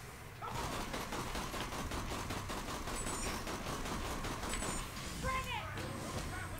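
Sustained rapid gunfire from Borderlands: The Pre-Sequel plays loud and continuous throughout, dense and layered with bursts of game effects and a few whooshing sweeps near the end.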